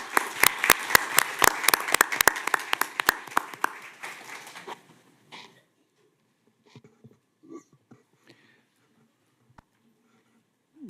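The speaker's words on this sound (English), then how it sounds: "Let's give them a round of applause for all the work they do." A modest crowd at a Boynton Beach city commission meeting applauds a Child Abuse Prevention Month proclamation with sharp, distinct hand claps for about four seconds, then thins out and fades into a quiet room with a few small knocks.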